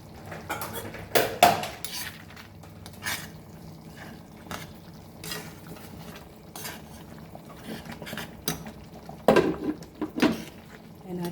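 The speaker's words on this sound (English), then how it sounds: "Now we'll add our coriander leaves and mix," A spoon clatters and scrapes in a pot while coriander leaves are stirred into a Goan cashew curry, with intermittent metallic knocks, soft scraping and clinks that are close and moderately loud.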